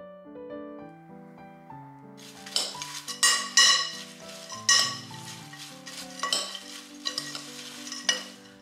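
A spoon stirs and mixes a grain-free cereal mixture with ground cloves, cinnamon and vanilla, giving scraping, clinking strokes against the bowl that start after a couple of seconds over soft background music.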